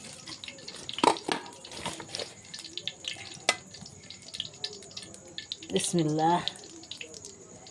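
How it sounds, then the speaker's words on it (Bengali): Rice-flour pithas drop one by one into hot oil, with a steady close sizzle and spattering broken by a few sharp pops. A voice speaks briefly over it. "এই যে পিঠিগুলো তেলে ছেড়ে দিলাম। এক এক করে সব পিঠিগুলো ভেজে নিব।"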